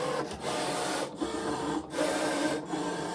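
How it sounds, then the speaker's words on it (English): A Cricut cutting machine running the cut pass of a Draw Then Cut job on a kids' colouring project, giving a steady close whirring motor hum with rhythmic carriage sweeps and brief dips roughly every second, with no talk. "I can press the go button again and it will then do the cut part of Draw Then Cut"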